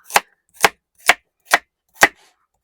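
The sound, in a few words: chopping vegetables with a knife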